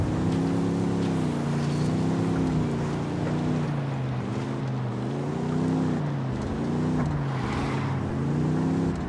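Vehicle engine in the video game Ghost Recon Wildlands, a steady droning hum that rises and falls as it drives along, continuous and fairly loud throughout.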